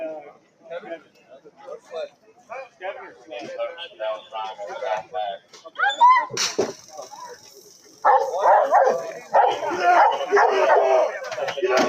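A dog barks and yelps in repeated bursts amid shouting people, with the commotion growing louder and more chaotic toward the end.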